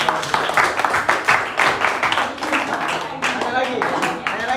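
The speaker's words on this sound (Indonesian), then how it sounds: "Aplaus." Applause in a classroom during an Indonesian group presentation, with a sustained burst of many hands clapping in a dense, even patter that continues for several seconds.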